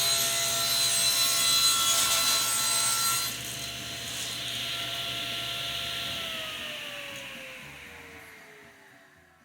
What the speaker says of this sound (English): I'll make some room for those bands by ripping the walnut at about 1/3 of the width.